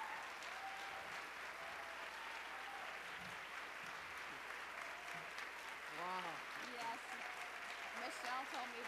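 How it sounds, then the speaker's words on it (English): An audience at an awards ceremony stands and applauds Dr. Parker, a soft, even patter of many hands at a distance, while a voice speaks briefly over it near the end. "please stand and join me in applauding his support and commitment to our members and profession"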